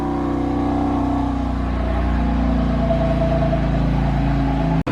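A car engine running without its aftermarket exhaust gives a steady, close, droning hum with a rough, buzzy tone throughout, with no talking. It cuts off abruptly just before the end.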